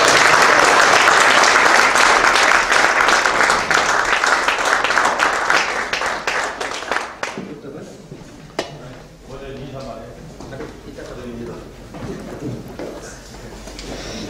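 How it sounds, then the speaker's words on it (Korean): A church assembly rising in a standing ovation, loud, dense clapping filling the hall for about seven seconds, then fading as speech over a microphone takes over. "단독 입후로 다 같이 기립박수를 올립니다."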